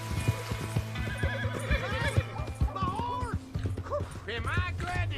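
A horse in Red Dead Redemption 2 whinnies several times over steady clip-clopping hooves, with game dialogue voices overlapping throughout.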